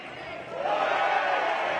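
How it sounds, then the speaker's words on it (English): Boxing crowd at a corporate fight night on the Gold Coast roars in reaction to a body punch, a dense sustained swell of voices that rises and holds, with a commentator talking over it. "You can see the reaction of that punch. You certainly hear it from the crowd."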